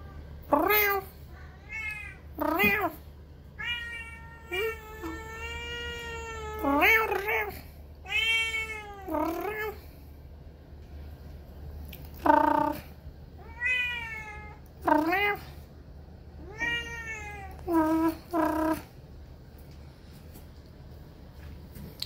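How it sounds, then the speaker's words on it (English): A domestic cat meows repeatedly and loudly nearby, in a string of drawn-out, rising and falling calls separated by short pauses, with no talking. "I talk to my cats."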